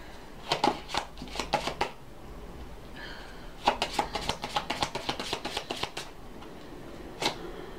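Tarot deck being shuffled by hand, close-up bursts of rapid riffling card flutters in two main runs separated by a short pause, ending with a single crisp snap, no speech.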